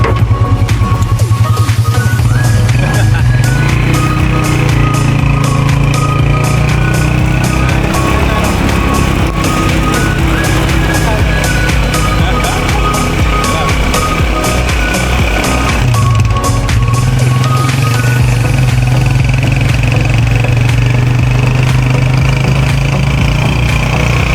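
A rented motor scooter engine on Guimaras island, Philippines, drones steadily and loudly throughout, its pitch rising and falling with throttle, with brief voices mixed in.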